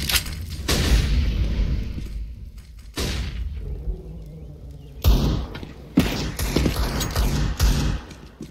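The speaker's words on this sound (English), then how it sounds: "Grenade out." A grenade thrown and detonating in a competitive CS:GO match on Inferno: several heavy, loud booms and thuds arrive at uneven intervals, trailing off into rumbling decay between them, with no talking.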